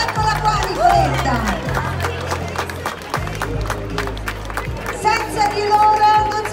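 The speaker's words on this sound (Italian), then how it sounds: "un grande applauso" Audience clapping at the dinner of the Facchini di Santa Rosa, an evening fashion-show gathering, with quick, scattered hand claps over background music and crowd chatter, fairly loud and continuous.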